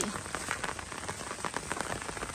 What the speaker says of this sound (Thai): บรรยากาศฝนไม่หยุดเลย